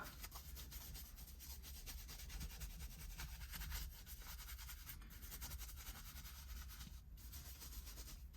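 Leather cleaner being scrubbed into a car's leather interior, a steady close-up rubbing and brushing that runs without pause at a fairly even level, with no talking.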